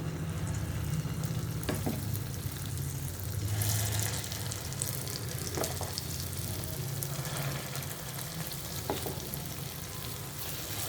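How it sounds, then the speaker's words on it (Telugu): Dosa fries on high heat in hot oil and puffs up, with a loud, steady sizzle that runs without a break. A few sharp clinks stand out from time to time, and there is no talking. "పొంగుతున్నాయి, వేగుతున్నాయి కదా, చూసారా పైకి లేస్తున్నాయి, పొంగుతున్నాయి."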